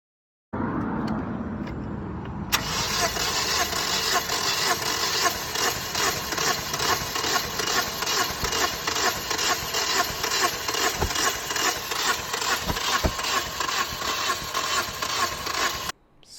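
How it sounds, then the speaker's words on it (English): A car engine with low compression and a suspected bad timing chain cranks continuously without starting, the starter's fast, even whirring rhythm steady and close for about thirteen seconds before cutting off abruptly, with no voices. "I play you the actual sound of the cranking"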